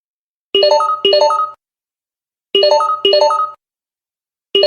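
A phone rings in the Red Faction Guerrilla video game, a clean electronic two-pulse ring repeated twice with silent gaps between, then starting again, loud and alone.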